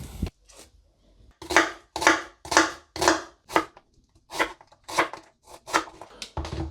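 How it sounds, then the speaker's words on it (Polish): Knife chopping a red onion on a board, a run of about a dozen crisp, fairly loud cuts in an uneven rhythm, heard alone with no talk. "Zaczynam od krojenia cebuli."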